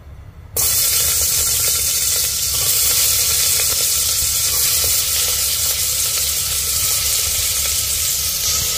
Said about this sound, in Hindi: इसमें डालेंगे हम 1 चम्मच तेल और तेल के गर्म होते ही इसमें डाल देंगे हम आलू